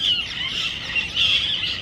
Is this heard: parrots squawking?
yes